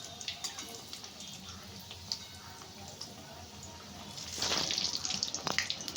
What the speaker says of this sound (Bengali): গরম হয়ে গেছে তেল, আমি এরপরে একটা করে করে দিচ্ছি।